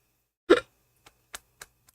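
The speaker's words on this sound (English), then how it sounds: "Ooh, I'm burping up Snapple and alcohol." A single short, abrupt burp after drinking Snapple and alcohol, close and fairly loud, followed by a few faint clicks and small throat noises in otherwise quiet surroundings.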